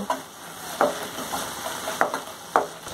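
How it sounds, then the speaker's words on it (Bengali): Chilli powder and turmeric being sautéed in a frying pan for a spicy egg pakora curry, a low steady sizzle broken by four or five sharp scraping stirs of the spatula, close and fairly quiet. "এবার মশলাগুলো খুব ভালো করে কষিয়ে নেব।"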